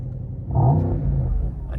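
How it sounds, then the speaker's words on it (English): A Mercedes-AMG GT 63 engine starts up close with a low rumble that swells into a brief rev and then settles into a steady idle. "Let's turn the car on for a second."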